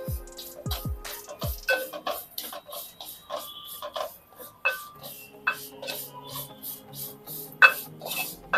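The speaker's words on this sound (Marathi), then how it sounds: "सर्वात अगोदर आता आपण शेवई तुपावरती चांगली खरपूस होईपर्यंत परतून घेणार आहोत" Vermicelli stirred and roasted in ghee in a pan for carrot kheer, a steady close scraping and rasping of the spoon against the pan with soft sizzle, continuous and fairly loud.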